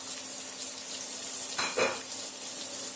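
Chopped onion goes into hot oil in a kadai already holding dried red chillies, bay leaf and cumin, giving a steady close sizzle with a brief louder burst of frying and stirring near the middle.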